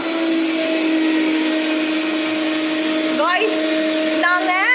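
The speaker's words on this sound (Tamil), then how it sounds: "நாங்கள் ஃபாரினர் மிக்ஸி வச்சுருக்கோம்." An electric mixer grinder runs steadily with a loud, continuous motor whine, close by, while voices with rising and falling pitch speak over the drone near the end.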